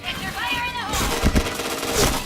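Gunfire in a video game shooter, a couple of sharp close shots and short bursts after a whooshing sweep, with a voice speaking over part of it.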